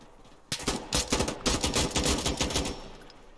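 Short bursts of automatic rifle fire from a trigger being tapped in Insurgency Sandstorm, loud, close and sharp, in rapid clusters of a few shots each across the clip.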